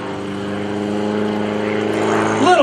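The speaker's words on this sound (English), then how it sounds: "bringing the airplane around" A propeller airplane of an aerobatic team drones steadily overhead at an airshow, its engine tone building in strength, then shifting pitch sharply near the end as it maneuvers through a loop.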